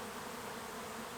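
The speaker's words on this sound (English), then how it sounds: "As you can see, there are still a lot of bees here." Many bees buzz around a large hive inside an abandoned chicken barn, a steady dense hum that fills the short stretch without pause.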